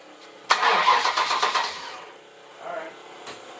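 The Cluster Truck's engine cranks briefly, then catches with a sudden loud start and runs rough for about a second and a half before settling back to a low idle.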